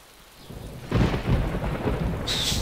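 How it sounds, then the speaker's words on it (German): Thunder rumbles in the survival video game DayZ, a low rolling crack swelling about a second in and sustained over steady rain, fairly close and loud with no talk. "Jetzt fängt es an zu donnern."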